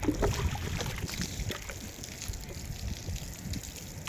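Water splashes and trickles steadily over a solar panel at close range, with a continuous wet pouring noise throughout.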